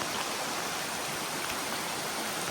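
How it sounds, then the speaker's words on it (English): Steady rain pours down in a forest beside a creek with falling leaves, a dense, even hiss of drops and flowing water filling the whole moment without a break. "The rain is coming down, along with some of the leaves"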